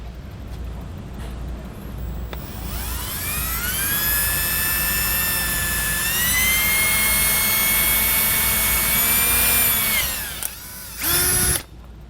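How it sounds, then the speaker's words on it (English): A power drill fitted with a step bit bores a 3/4 inch hole, whining loudly and steadily for several seconds with its pitch climbing as it speeds up, then winding down and ending with a brief final burst. "you can use either a step bit or you can use a hole saw bit, but 3/4 inch is what you're going for"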